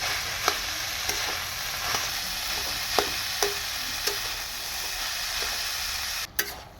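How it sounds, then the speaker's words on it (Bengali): Chopped figs and potatoes simmer in a pan for a fig ghonto with a soft, steady sizzle, broken now and then by sharp ticks and scrapes of stirring. "ডুমুর আর আলুটা দিয়ে দিচ্ছি। এটা আমি খানিকক্ষণ রান্না করে নেবো"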